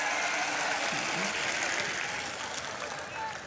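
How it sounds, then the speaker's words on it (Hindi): An audience at a poetry recital and mushaira applauds in a broad, continuous wash of clapping, with some talking underneath as the noise slowly thins toward the end. "ताली बजाइए, हौसला मिलता है।"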